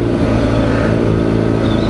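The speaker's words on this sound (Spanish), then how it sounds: "le das un tantito de gas y te reacciona a la primera sin ni siquiera pensarlo" A BMW 310R motorcycle engine revs under the throttle with a continuous, loud, close mechanical roar that holds steady through the short moment.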